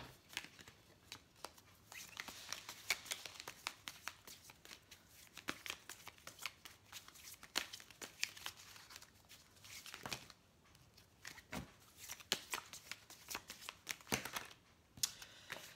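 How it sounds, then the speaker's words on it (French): Oracle cards are shuffled by hand in a quiet room, producing a faint, steady stream of soft flicking and riffling clicks that continues with irregular rhythm throughout. "Alors je vais tirer quelques cartes de l'oracle d'Isawat."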